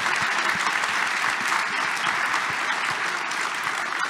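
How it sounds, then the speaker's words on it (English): Full, dense applause from an evening audience for a technology panel, steady and loud throughout with no break. "I want to give a, a big round of applause, please, to these amazing panelists"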